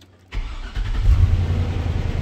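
A 5.7 liter V8 Vortec work truck engine with a loud exhaust cranks and catches abruptly, then settles into a deep, rumbling idle close by.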